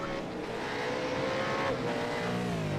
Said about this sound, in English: can you hear those engines roar? How crazy is that sound?